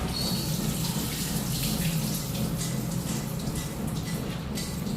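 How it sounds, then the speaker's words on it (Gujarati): A steady stream of water drains from soaked lentils, running and splashing nearby, constant and unbroken, like water tipped out through a strainer; no one speaks. "બધું પાણી પહેલા નીતાર દેવાનું"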